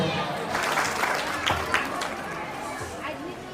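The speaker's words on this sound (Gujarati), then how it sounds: "તાળીઓના ગડગડાટથી આપણે વધાવી લઈએ" A crowd applauds at an Ahir Vaniya family gathering's prize ceremony, steady clapping and cheering for a few seconds, mixed with talk and general hubbub in the hall.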